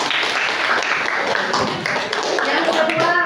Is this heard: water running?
no